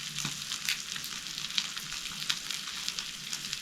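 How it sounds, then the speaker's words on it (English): Burgers cook over a campfire in Brisbane Water National Park, giving a quiet, steady sizzle with scattered small pops and crackles throughout. "Probably have just enough heat to get the burgers cooked"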